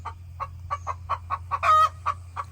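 Hens cluck in a backyard coop, a steady run of short, close clucks at a relaxed rhythm with a slightly louder, drawn-out squawk near the end, over a low constant hum.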